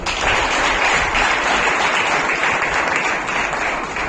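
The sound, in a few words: audience loud applause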